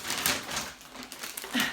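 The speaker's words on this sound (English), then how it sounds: "Excuse the plastic bag, I'm sorry." A plastic grocery bag crinkles in close, irregular rustling bursts, fairly quiet, with no speech over it.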